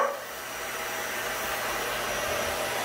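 A vacuum cleaner runs with a steady, even whirring drone that starts abruptly and holds level throughout, close and alone without any voices.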